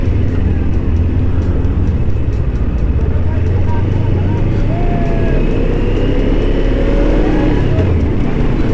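A car jolts along a broken, potholed road off-road style on the Quetta–Mastung road in Balochistan, with a steady loud engine drone and rattling rumble throughout, people talking over it.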